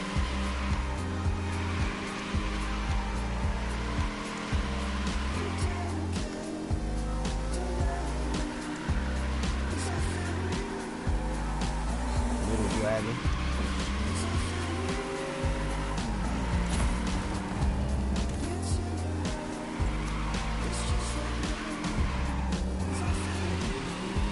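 A '67 Fastback drifts through Tokyo streets in The Crew, its engine roaring continuously while tires squeal through long slides, all set against constant background music.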